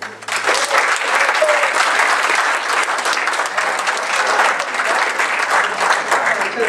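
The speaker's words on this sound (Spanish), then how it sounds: "Recibámosle con un fuerte aplauso." Audience applause at an engineering-week lecture welcoming a speaker, dense sustained clapping from the crowd, loud and even throughout.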